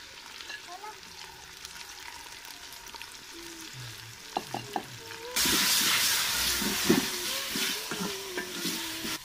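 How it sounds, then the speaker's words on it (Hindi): Quiet oil simmers at first, then a loud burst of sizzling and frying as a tomato, ginger, garlic and green chili masala hits browned onions in a beef karahi pan, with stirring clatter continuing. "अभी टमाटर, अदरक, लहसुन, हरी मिर्च सब एक साथ हमने ये मसाला बनाया इसमें डाल देंगे।"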